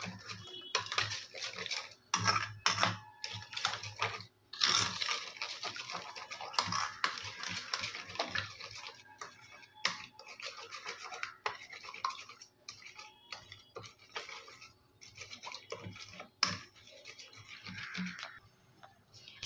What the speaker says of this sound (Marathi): चमच्याच्या साहाय्याने आपण हे मिक्स करून घेणार आहोत।